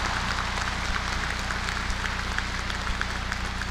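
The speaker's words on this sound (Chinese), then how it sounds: "先要鼓掌的呀。" An audience applauds in a steady, continuous wash of clapping at moderate level, with a low hum running underneath throughout.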